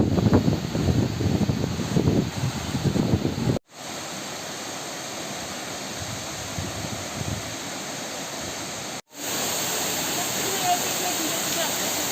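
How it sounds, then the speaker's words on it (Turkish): Roaring rush of the Yer Köprü waterfall in Mersin, heard close up from its base: a loud, dense, unbroken wash of falling water, briefly cut off twice. "Şu anda Yer Köprü şelalesinin dibinden çekim yapıyoruz."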